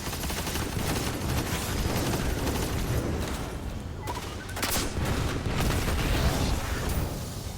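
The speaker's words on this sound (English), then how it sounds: "Now, this causes explosions." Weapon-caused explosions and gunfire in the Destiny game's Scavenger's Den lost sector, a dense, loud barrage of blasts and shots that carries on almost without a break.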